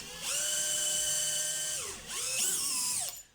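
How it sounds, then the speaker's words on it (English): A power drill bores a pilot hole into the edge of a piece of wood, a steady high whine lasting about a second and a half, dipping briefly, then rising again before cutting off. "The first thing to do is to drill a pilot hole"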